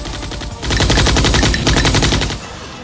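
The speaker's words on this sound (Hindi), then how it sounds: "भीषण गोलाबारी हुई।" Heavy machine-gun fire in a firefight with retreating infiltrators: a rapid, continuous burst of loud sharp shots lasting about two seconds, close and harsh, with no voices.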